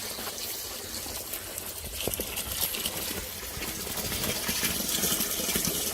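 Snowmelt water rushes steadily through a residential yard drainage system with a French drain in Bloomfield Hills during a thaw, a continuous close wash of flowing water without talk.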